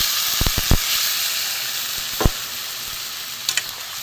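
A mixture of milk, cashew paste, ginger, green chilli, tomato and ground spices hits a hot frying pan with pointed gourd, giving a loud, steady sizzle and hiss with a few sharp clinks of a spoon stirring.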